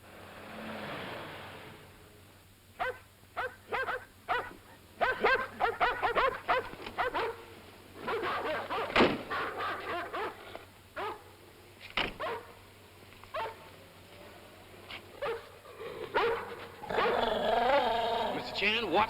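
Several dogs bark and growl in sharp, irregular bursts, close by and fairly loud, with a car engine revving and people talking in the scene of a 1930s Charlie Chan mystery film.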